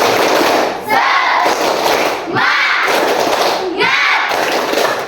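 A group of schoolchildren in a classroom performing the tepuk semangat spirit clap, loud rhythmic bursts of clapping and shouted group voices that come in three surges separated by brief pauses.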